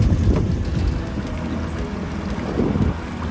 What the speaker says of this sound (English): The boat ride was calm and soothing